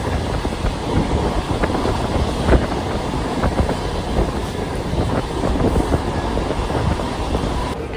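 Inside a moving passenger train: a steady broadband rumble with wind buffeting and faint rattles from the carriage, continuous and fairly loud throughout, with no talking.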